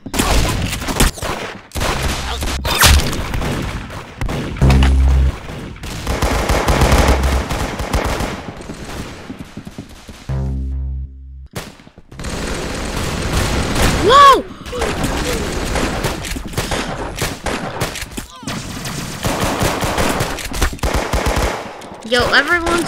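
Rapid automatic gunfire from a weapon in the video game Arsenal crackles in dense bursts with brief gaps, loud and close, with occasional booms mixed in and a player's voice talking over parts of the action.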